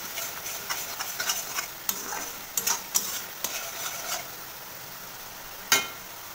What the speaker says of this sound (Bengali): এরপর খুব ভালো করে মিশ্রণগুলি মিশিয়ে নিতে হবে মশলার সাথে